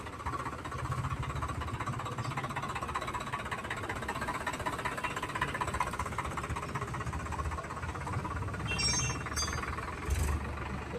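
A new Swaraj 855 Protek 4WD tractor engine runs steadily as the tractor drives, a loud, continuous low diesel rumble throughout with faint higher noises near the end.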